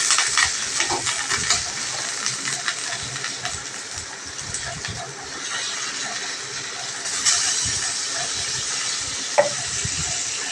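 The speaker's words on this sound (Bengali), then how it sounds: "আলুগুলো তেলের মধ্যে দিয়ে দিয়েছি।" Potato pieces sizzling in hot oil in a pan, a steady close crackling hiss with occasional stirring scrapes and pops throughout.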